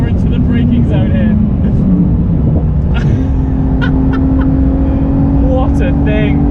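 A Porsche GT2 RS drives hard on a race track at around 160 mph, its engine a loud steady roar heard from inside the car that shifts pitch toward braking, with someone talking over it.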